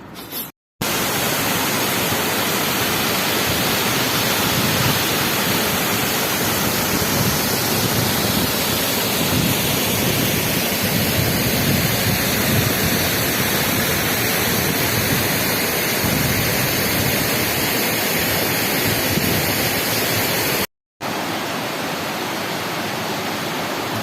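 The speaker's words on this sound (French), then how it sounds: "Très belle petite cascade dans l'Aveyron." A small waterfall in Aveyron pours in a steady, loud, broadband rush that fills the whole clip, briefly cut by short gaps near the start and end, with no talk over it.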